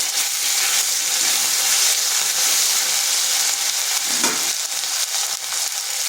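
Bay leaf, dried red chili, cardamom, cinnamon and a ginger and green chili paste fry in hot oil for a vegetarian jackfruit curry, a steady close sizzle with a brief stir or clatter partway through.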